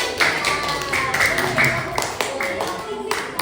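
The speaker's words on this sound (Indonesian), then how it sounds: "Iya, kasih tepuk tangan." Participants in a Pelatihan Pembelajaran Mendalam on-job training session clap together in quick rhythmic bursts, moderately close, with voices and chatter mixed in alongside the applause.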